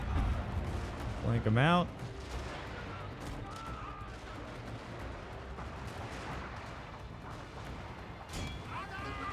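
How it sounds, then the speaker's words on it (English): Artillery bombardment in the Total War strategy game, a loud burst of booming fire near the start followed by a continuous rumbling battle din, with someone talking over it. "There comes the bombardment."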